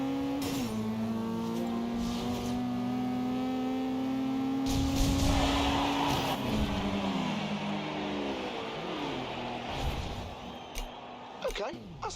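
A Mazda Miata races in Forza Horizon 2 with a steady droning engine note that rises and falls through gear changes, while a player talks over it.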